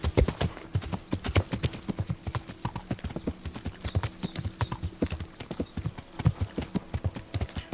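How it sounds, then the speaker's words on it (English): A horse gallops in Kingdom Come: Deliverance, its hooves drumming in a quick, steady clip-clop rhythm that stays close and loud the whole way through, with a faint whinny in the mix. "My horse kicks ass. He's so fast."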